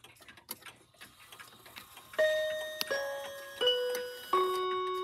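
Seth Thomas Westminster chime mantel bracket clock from 2001 with small chime rods: soft ticking, then four bright struck chime notes ringing out one after another, close and clear, each note decaying into the next, with no voices.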